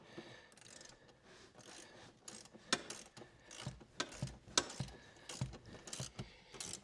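A ratchet wrench turning a front seat bolt in a 1967 Firebird, quiet repeated metallic clicks and light rattles in irregular bursts, close by with no speech.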